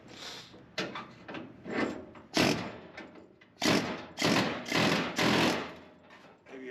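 An air chisel hammers at welds on a 1970 Chevrolet Nova tail light tray, firing in a series of loud rattling bursts of about half a second to a second each, separated by short pauses.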